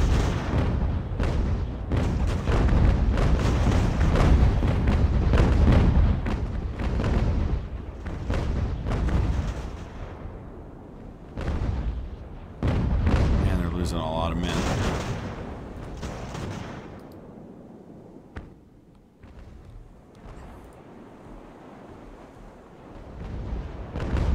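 Heavy naval cannon broadsides boom in dense, rolling volleys during a sailing-ship battle in the Ultimate Admiral game, loud and continuous at first, then thinning to scattered distant shots, with no voices.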